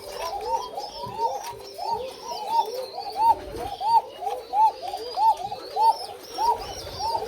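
White koka pigeons coo steadily on a farm, a chorus of soft, rolling coos that overlap and repeat throughout, with faint chirps and a low background hum.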